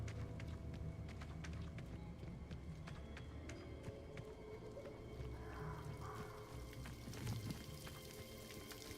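A waterfall in the video game Hogwarts Legacy gives a faint, steady rushing wash of water with scattered light splashy ticks, heard alone without talk.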